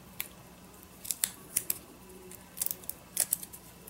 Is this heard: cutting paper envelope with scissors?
yes